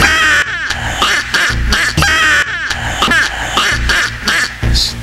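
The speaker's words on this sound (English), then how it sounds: "I'm going to pull out my super duper duck call" A handheld duck call blown repeatedly in loud, raspy quacking bursts, with several rhythmic sequences of quacks and short pauses between them, close and clear with no talking.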